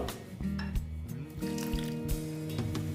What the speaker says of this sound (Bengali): দেখো আমি জল দিয়ে দিচ্ছি